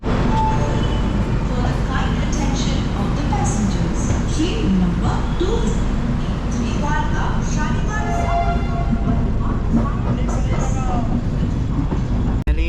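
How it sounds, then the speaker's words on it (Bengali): A weekly passenger train from Shalimar bound for Puri runs along the track after departure, with a loud continuous rumble and wheel-on-rail clatter throughout, plus occasional squeals and faint voices in the carriage. "ট্রেন ছেড়ে দিয়েছে শালিমার থেকে আটটা পঁয়তাল্লিশে"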